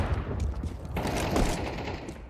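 Gunfire in Counter-Strike during an ESL Pro League esports match: a dense, rapid fusillade of shots, loud and continuous over about two seconds, with no talk.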